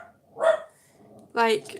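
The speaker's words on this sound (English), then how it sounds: "Oh, my dog's barking." A dog barks once, close and fairly loud, followed by a short spoken word.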